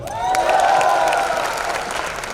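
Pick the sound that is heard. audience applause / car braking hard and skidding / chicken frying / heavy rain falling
audience applause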